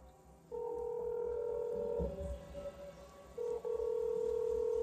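Dialing out from a brother's phone to a number that has been blocked, giving a steady electronic ringback tone that starts after a short pause and pulses on and off, loud and clear with no talk over it.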